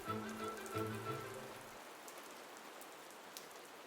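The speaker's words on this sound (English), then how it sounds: "rain." Steady hiss of rain falling in Hamburg, with a low droning hum at the start that fades away, leaving only the soft wash of rainfall.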